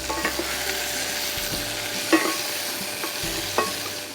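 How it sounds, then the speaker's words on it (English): Vegetables sauté in a pan with thyme, bay leaf, mint and fresh lettuce, a steady close sizzle broken by a few stirring scrapes and knocks, with no talking. "So now vegetables are sauteed"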